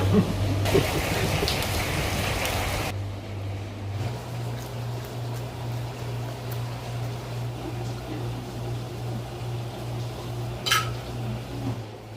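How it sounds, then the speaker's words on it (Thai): A constant hiss of heavy rain fills the background under a low electrical hum, with a few faint clinks and a brief sharp tap near the end. "ฝนตกแรงมาก"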